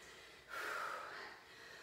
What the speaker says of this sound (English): Can you hear from my panting that I need to?